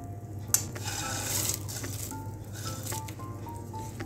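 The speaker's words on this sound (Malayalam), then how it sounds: "ഇത് നന്നായി മിക്സ് ചെയ്യുക, എല്ലാവിടത്തേക്കും ഒരേപോലെ മിക്സ് ചെയ്ത്." Boondi pearls are stirred into sugar syrup for laddus, giving a soft, wet shuffling and scraping in a pot, with a clink of a spoon against the rim near the start and light tapping later.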